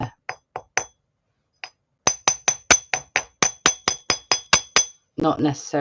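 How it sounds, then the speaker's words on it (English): A small hammer taps jewellery wire on a metal block in a steady series of sharp, ringing clinks, a few at first, then a longer rapid run, with a brief voice at the end. "So pop it onto your block and give it a bit of a tap."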